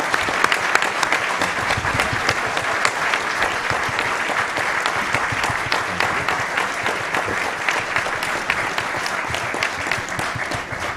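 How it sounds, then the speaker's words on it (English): A luncheon audience at the National Press Club applauding a guest speaker, sustained dense clapping from many hands that stays loud and even for the full stretch, with no speech over it. "How about a round of applause for our guest speaker today?"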